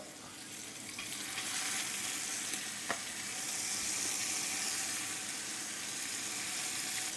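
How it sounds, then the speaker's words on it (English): Beef and bone fat searing in a pot, a steady close sizzle and crackle with faint stirring clicks, loud and continuous with no talk. "Searing off some of that beef back in this pot."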